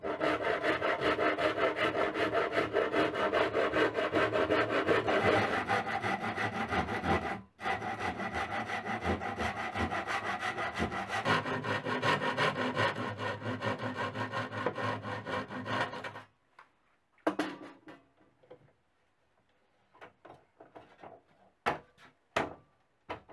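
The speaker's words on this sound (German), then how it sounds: "Nun setzt man die Säge an und justiert sie anfangs mit dem Daumen." Steady back-and-forth hand sawing through a wooden board for a birdhouse, continuous strokes with a brief pause, then stopping and giving way to scattered knocks and handling clicks.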